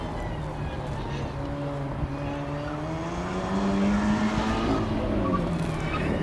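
A Dacia Sandero's engine revs up under hard acceleration on a timed lap, a loud, steady drone whose pitch climbs and swells toward the end, heard from inside the car.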